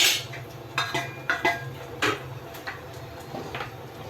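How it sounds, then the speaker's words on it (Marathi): Lid set on a pot of vegetables cooking in water for manchow soup, with several light metallic clinks and taps of the lid and pot, close and moderately quiet, no talk. "त्यावर झाकण ठेवणार आहोत"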